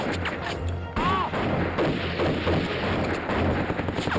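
Gunfire fills a war drama battle scene, with loud shots and bursts crackling over a dense, continuous din of combat noise and rumble, spread across the whole stretch without letup.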